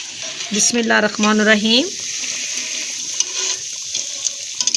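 Kebabs frying in hot ghee give off a steady, close sizzling hiss that lasts throughout, with a voice speaking briefly over it near the start.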